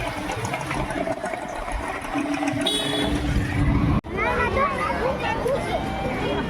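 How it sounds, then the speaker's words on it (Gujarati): A car rolls into a crowded temple parking area, its engine a low continuous rumble beneath nearby talking and background crowd babble. "પહેલાં ગાડી પાર્કિંગમાં મૂકીએ"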